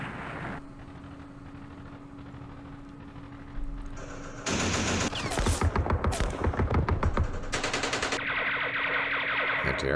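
Anti-aircraft guns fire in a Vietnam War strategy game, sharp bursts of rapid automatic fire with echoing booms that grow loud and dense after a quieter opening.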